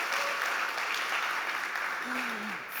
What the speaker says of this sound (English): so big round of applause for us